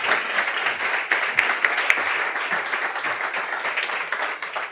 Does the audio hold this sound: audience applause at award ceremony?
yes